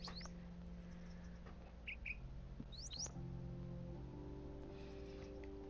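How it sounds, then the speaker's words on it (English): Parrots in the game Minecraft give a few faint, scattered chirps and short squawks over a steady droning hum of game ambience and low tones, with no talking. "Now I have to figure out how to get all of these parrots out of here."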